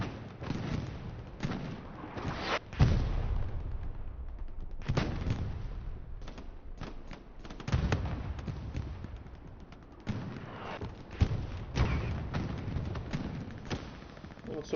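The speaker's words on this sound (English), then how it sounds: "Lots of explosions." Repeated booming explosions and gunfire thuds in a video game battle erupt at irregular intervals, some loud and close, others rumbling in the distance, with a constant battle din between them.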